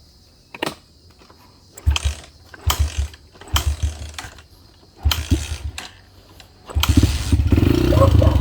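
After a carburetor restoration, a KTM 450 motorcycle engine fires in short bursts of rough revving separated by pauses, then settles into a steady run at the end. The sound is close and loud, with some mechanical rattling.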